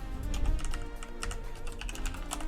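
Steady typing on a computer keyboard while editing an item description in a Bedwars shop config, rapid continuous key clicks close up with a low hum beneath.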